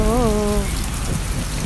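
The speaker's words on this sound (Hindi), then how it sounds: "गुजरे भी तो देखो एक बार फिर बारिश का मौसम आया।" Rain falling steadily during the monsoon season, a dense even patter that holds at a constant level throughout, with a brief tonal whine heard over it at the start.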